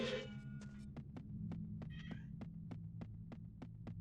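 A cat meows once at the start in the Zelda Ocarina of Time randomizer, followed by a steady low hum with regular soft throbbing pulses, like a heartbeat in the game ambience.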